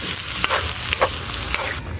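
Mung beans bubble and sizzle steadily in a pan close by, with small pops and crackles and no voices.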